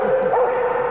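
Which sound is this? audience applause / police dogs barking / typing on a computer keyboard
police dogs barking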